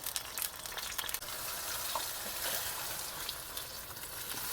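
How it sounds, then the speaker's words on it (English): Tomato frying in hot oil produces a dense, fairly quiet sizzle with crackling spatter throughout, a few louder pops early on, and no voices. "When the oil hits the tomato, it needs to fry so it extracts all the flavor"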